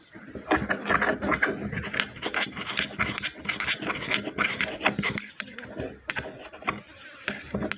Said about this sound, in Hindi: तो आपने अच्छी तरह मिक्स कर लेना।